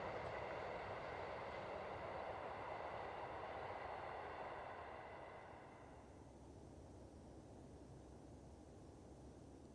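A long freight train rumbles past with a steady broad roar and grinding hum that gradually fades and eases off as it moves away, on a remote outback railway in Australia.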